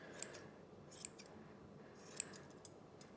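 Scissors snipping a Yorkie's hair during grooming, a few quiet close crisp snips in small clusters over a faint background hiss.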